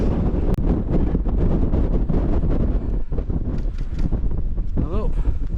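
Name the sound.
strong wind on a mountain path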